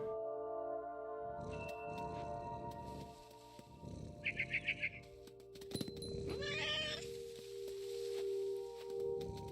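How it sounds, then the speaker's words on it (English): An angry cat meows and snarls in the video game What Remains of Edith Finch: a short, bright burst of rapid cries near the middle, then a longer yowl, over steady game ambience and rustling footsteps. "Oh, it's an angry kitty."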